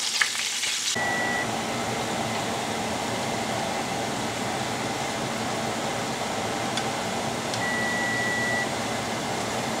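Sicilian-style braciole meat sizzles gently in a frying pan, a steady hissing crackle that runs without a break, with a faint beep near the end.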